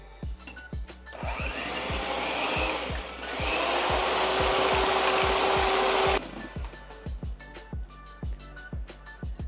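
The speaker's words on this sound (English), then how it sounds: "you're gonna take a hand mixer" A hand mixer whirs steadily on high speed while beating egg whites to stiff peaks, a loud continuous motor drone lasting about six seconds and then cutting off abruptly, with a regular clicking beat running throughout.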